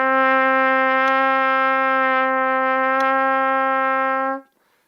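A trumpet sounds a single long, steady D played with the first and third valves, holding in tune for about four seconds before cutting off.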